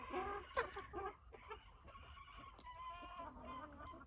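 Wyandotte chickens cluck softly and steadily inside a coop, with several overlapping calls, faint and nearby, with no voices.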